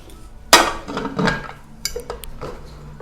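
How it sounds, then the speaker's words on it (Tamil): A pressure cooker lid is set on the pot with a sharp metallic clank, followed by scraping and rattling as it is closed, then a few lighter metal clinks; nobody speaks. "இப்போ நம்ம இத லைட்டா கலந்து விட்டுட்டு குக்கர் மூடி போட்டு மூடி வச்சிரலாம்"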